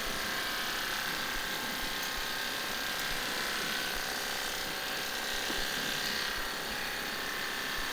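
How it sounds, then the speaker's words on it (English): Quiet electric animal clippers run steadily with a thin, high buzzing whir, continuous and close, with no voices over it. "Yes, that's clippers."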